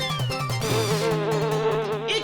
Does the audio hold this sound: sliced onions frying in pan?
no